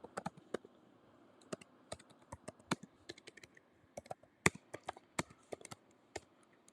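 Someone types on a computer keyboard, producing quiet, irregular clusters of crisp key clicks close up, with short pauses between bursts and no talking.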